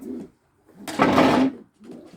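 A soft pigeon coo, then a brief burst of rustling and handling noise as the pigeon is held, followed by more low cooing close by.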